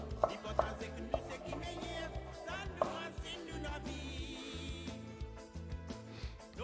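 Madagascar onions being chopped on a board, a series of crisp knife knocks at an irregular pace, over a busy background of music and kitchen noise.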